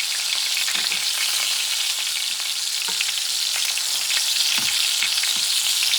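Pork chops frying in a pan with a steady, loud sizzle and a few soft scrapes or taps of a utensil, with no talking.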